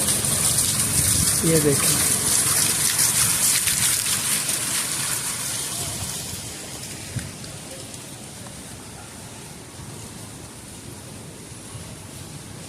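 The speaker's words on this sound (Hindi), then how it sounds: "ये वाटरफॉल है" Waterfall at National Harbor rushes in a steady broadband wash, loudest early and easing slightly later, with a person speaking briefly over it near the start.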